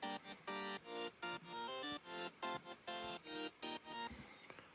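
Bright electronic synth layer doubling piano chords in a tropical house track, with crisp, choppy stabs pulsing in a regular rhythm and a brief fade at the end.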